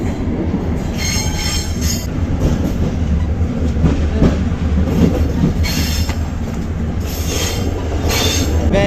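A Tunisian train rolls slowly into the city centre, with a steady loud rumble of wheels on track and repeated high-pitched wheel squeals coming in bursts.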